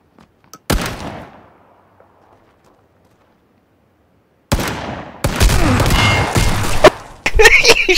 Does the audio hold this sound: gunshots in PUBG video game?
yes